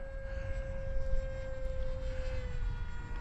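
An FF-35V2 model airplane with a 6-inch propeller, flying during its maiden flight, gives a steady, faint propeller whine with a thin tonal hum that holds evenly from start to end.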